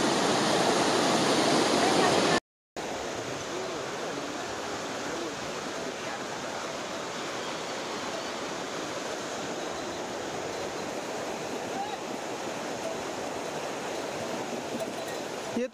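A rushing mountain river in Chamoli, Uttarakhand gives a loud, steady broadband roar close by. It continues unbroken apart from a brief cut near the start.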